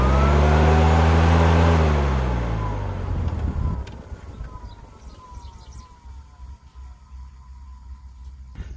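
A car radiator fan wired straight to the battery gives a loud, steady motor whine with a deep hum, then its pitch slides down as it spins down and fades into low background rumble.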